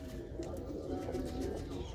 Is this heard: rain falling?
no